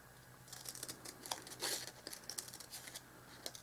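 Scissors snip and crinkle through a strip of paper roofing for a miniature dollhouse porch, making close, dry cutting and rustling sounds with no talk.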